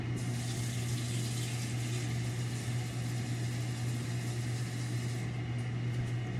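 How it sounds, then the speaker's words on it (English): Tap water runs steadily into a 4-cup measuring cup, a continuous rushing stream with a low hum beneath it, close and unbroken throughout. "I obviously need a little bit more water for this, so I'll just grab that."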